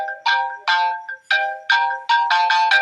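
Phone ringtone chiming in short repeated bursts of bright melodic tones, about seven pulses with small gaps between them, clear and close with no speech.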